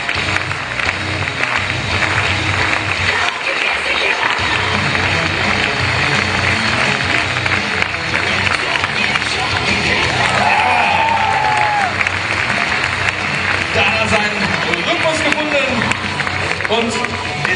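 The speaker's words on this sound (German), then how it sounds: "Also, kräftig in die Hände klatschen." Spectators at an indoor high jump competition clap and cheer steadily through a jumper's run-up, a dense, loud crowd sound with voices mixed in.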